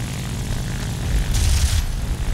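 In the video game War Thunder, a propeller plane flies with a steady, dense engine drone and rushing air. It swells briefly louder midway, with no talking.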